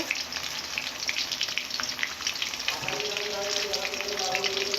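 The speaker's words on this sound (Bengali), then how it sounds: "হালকা আঁচে ভালো করে এইভাবে ভেজে নেব মাংসের পেস্তাগুলো" Meat paste frying in a pan on low heat, a steady soft sizzle and crackle that grows slightly busier toward the end, no talking heard.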